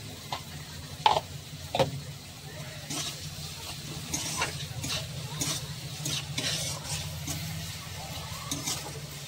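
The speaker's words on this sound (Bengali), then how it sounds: "তো পেঁয়াজটা আমি হালকা করে ভেজে নেব।" Onions sizzling steadily in a hot pan, with a few sharp clinks and scrapes of stirring near the start and softer stirring throughout.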